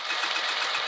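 A sewing machine runs steadily down the side edge of a vinyl bag, an even, close whirring hum with no pauses through the whole short moment.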